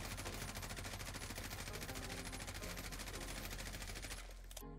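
Sustained automatic fire from an M4A1 assault rifle in Warzone, a dense rapid burst of shots running nearly the whole time at steady loudness, cutting off just before the end.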